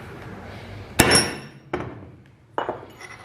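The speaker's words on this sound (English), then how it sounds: "Then you can take your regular center punch, and it makes it much easier to find the hole." A Pittsburgh center punch is struck three times into steel, each a sharp metallic clank with a brief ringing tail, spaced unevenly and close up with no talking.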